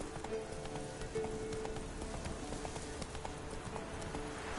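Rapid hoof clip-clop of a horse galloping in a PS4 video game, a steady driving rhythm through the whole stretch with faint game sounds behind it.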